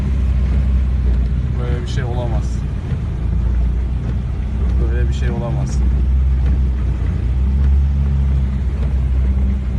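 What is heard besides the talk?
car driving through deep floodwater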